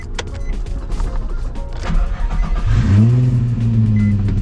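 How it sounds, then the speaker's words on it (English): Nissan 350Z with RevUp engine cold starts: cranking noise gives way to a loud, close idle with a strong low steady drone and rising harmonic tones that settle into a sustained rumble, with no talking. "Let's take this thing for a spin. Yes, sir. Cold start."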